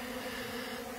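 A swarm of honeybees buzzes in a dense, steady drone close by, a continuous hum with no pauses and no voices over it.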